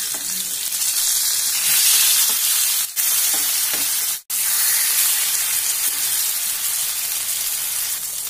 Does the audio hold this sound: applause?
no